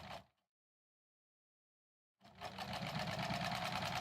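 A domestic sewing machine stitches through bulky assembled quilt blocks, starting after a brief silence and then running steadily and close with a fast, even whirring hum until the end.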